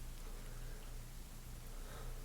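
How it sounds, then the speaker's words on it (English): Gentle, steady rain falls in a soft, even hiss, faint and continuous, with no other sounds above it. "just this gentle rolling rain"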